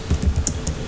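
Fast typing on a computer keyboard, about half a dozen close, crisp key clicks in an uneven quick rhythm, alone with no talk.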